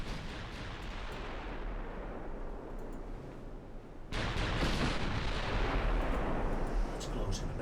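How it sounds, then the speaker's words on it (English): Naval gunfire rumbles from warships in the Ultimate Admiral Dreadnoughts game, long-range guns pounding a cruiser as a dense, continuous roar of booms that abruptly swells louder midway and stays heavy. "As my long-range fire continues pounding that cruiser in these single-point guns"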